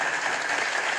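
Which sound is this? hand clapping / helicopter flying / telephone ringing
hand clapping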